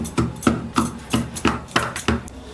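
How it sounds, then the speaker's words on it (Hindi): Laddoo being pounded in a bowl for raw turmeric and dry ginger laddoos, heard as a steady series of about ten sharp, close thuds in even rhythm, loud and alone with no talk. "ये जो लड्डू है इसको भी थोड़ा सा कूट लेते हैं"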